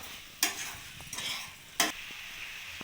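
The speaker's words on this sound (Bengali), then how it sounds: "এবার ভালোভাবে নাড়িয়ে নেব" Red spinach curry with chopped coriander leaves is stirred in a pan, with three sharp scraping strokes over a soft simmering sizzle, close and alone with no talk.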